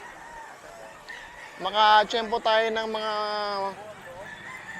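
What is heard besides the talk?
chickens and roosters crowing at a pet market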